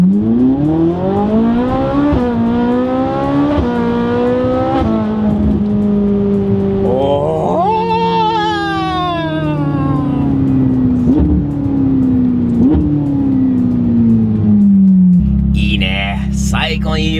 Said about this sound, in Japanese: 最高にいい音だよ、この FI マフラーが